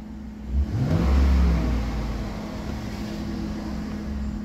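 A GM truck engine cranks and catches with a low thump near the start, then settles into a steady, even idle. The rumble stays close and continuous through the rest of the moment, with no talk over it.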